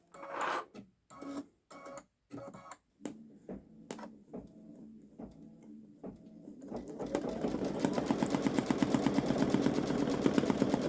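A Babylock Solaris Vision Journey embroidery machine stitches a fox design onto a sweatshirt, beginning with a few separate short mechanical bursts, then settling into a steady, rapid, continuous stitching whir up close.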